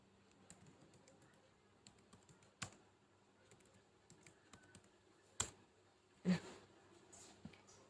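Quiet, close keystrokes on a computer keyboard while a command is typed, scattered soft clicks with a few louder taps, likely the Enter key, over a faint room hiss.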